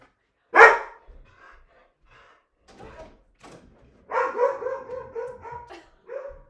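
A single loud dog bark, followed by softer rustling and a short run of yelping, whining barks.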